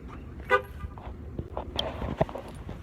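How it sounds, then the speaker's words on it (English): A car's horn gives a short chirp as it locks, heard close among faint footsteps and small handling noises outdoors. "Let me lock my car."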